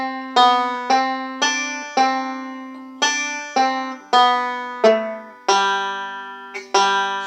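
A banjo plays a short picked passage of about a dozen twangy plucked notes in a steady, slightly syncopated rhythm, solo and close.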